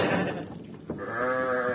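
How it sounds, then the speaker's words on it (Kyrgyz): A large grey sheep of a giant breed gives a loud, drawn-out bleat close by at a livestock yard, one wavering cry rising after a brief rustle and holding steady to the end. "Боз гигант койлор."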